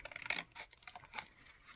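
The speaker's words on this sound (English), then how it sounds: "So I'm going to cut it out and see if it works or not." Scissors snipping through paper, a few crisp rasping cuts close by, quiet and uneven in rhythm.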